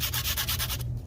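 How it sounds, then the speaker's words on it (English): Copper pennies rubbed back and forth on sandpaper to grind off the tail side, a steady rhythmic scratching of even strokes that stops just before the end. "We're going to take away the tail side by sanding them away."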